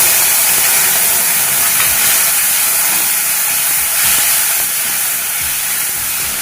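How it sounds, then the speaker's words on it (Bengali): Tomato paste hitting hot oil with dried red chilies and bay leaves in a pan, a loud, steady, broad hiss and sizzle filling the whole stretch without any talk. "এবার দিয়ে নেব আমার এই টমেটো বাটাটা"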